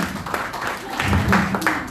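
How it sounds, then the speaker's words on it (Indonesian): Applause from a church congregation during a Sunday worship service, a broad wash of clapping mixed with voices and room noise, steady for about two seconds. "Tepuk tangan dulu buat Tuhan saudara."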